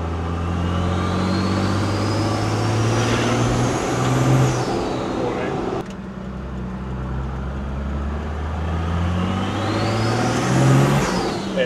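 A budget truck rig is driven on a first outing through a busy area, its engine climbing in pitch as it accelerates through gears twice, with a brief dip between runs, steady and close.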